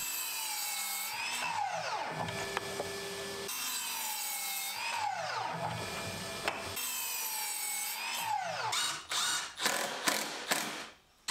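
A drill drives screws into wood scraps while building a balance board mold: three rising-and-falling whirring runs, each ending as the screw seats, then several short sharp clicks and bursts, close and alone without talk.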